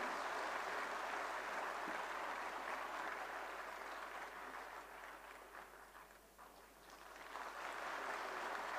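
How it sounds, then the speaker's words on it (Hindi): A large audience applauds the Prime Minister at a ceremony honouring Pandit Madan Mohan Malaviya, with steady, dense clapping throughout that dips slightly before swelling again. "प्रधानमंत्री जी के लिए जोरदार तालियां"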